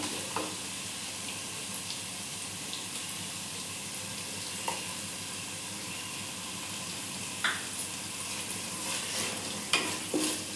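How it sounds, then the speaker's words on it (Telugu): Yogurt being stirred into soft-cooked tomatoes in a pan, a continuous close sizzle with occasional light scrapes and clinks of the spoon against the pan, no voices over it. "ఇప్పుడు మనం ఇందులో పెరుగు వేసుకుందాం."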